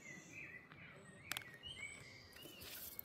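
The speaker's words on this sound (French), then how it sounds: "On entend bien les petits oiseaux là." Small birds chirp faintly in the background, a few brief high tweets and trills scattered over a quiet room with a low steady hum.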